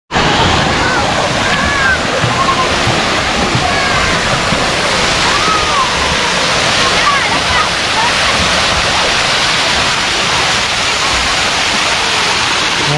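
Children bathing in water at Resort World Kijal in Kemaman, a loud, continuous wash of splashing and rushing water, close and constant throughout.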